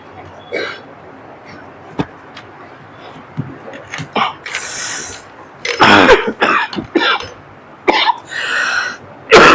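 A person coughs repeatedly and harshly up close, in irregular bursts growing louder and more clustered toward the end, with throat clearing between.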